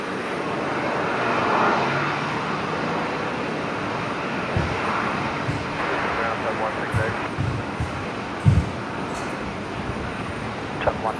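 Airbus A330neo jet engines at Brisbane Airport give a steady, broad roar that holds throughout, with a few brief thumps and knocks on top and a voice speaking over it.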